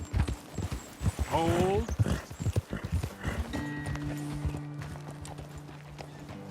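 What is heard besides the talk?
horses' hooves clip-clopping in the video game Red Dead Redemption 2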